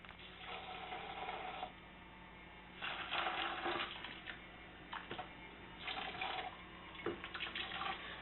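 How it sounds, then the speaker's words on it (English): Hot water poured from above into a jug holding tea bags while making sweet tea, heard as bursts of splashing, gurgling flow that start and stop several times, fairly close and moderately loud, with no talking. "Then you're going to fill this thing with hot water right on top of the bags."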